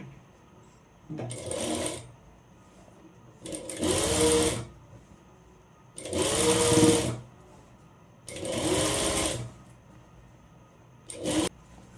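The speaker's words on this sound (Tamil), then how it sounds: "நான் அப்படியே ஸ்டிச் பண்ணி எடுத்துக்கிறேன்" A sewing machine stitches along a folded seam of a one-piece umbrella frock in four long bursts with quiet pauses between, each run whirring up loudly, then a short final burst at the end.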